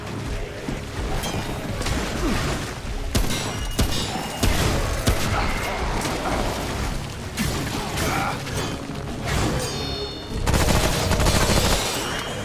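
Gunfire from the video game Remnant: From The Ashes comes in rapid bursts and repeated sharp shots with mechanical clatter between, loud and dense across the whole stretch, with no talk.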